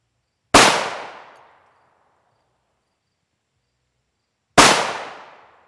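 Two sharp, loud rifle shots fired at Hesco 3611C Level III body armor during a ballistic test, about four seconds apart, each a crisp crack with a short decaying tail and silence between.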